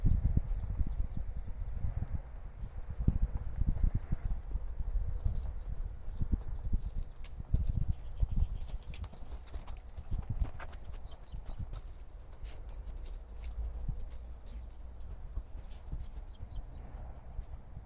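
A horse named Windwalker walking in a riding arena, its hooves clip-clopping in a steady, moderately paced rhythm, close and fairly soft, with no talk over it.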